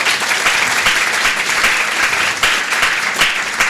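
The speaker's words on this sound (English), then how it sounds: "so please give him a round of applause" An audience claps for an honored guest and supporter at a foundation event, a loud, dense and sustained burst of many hands close by with no voices over it.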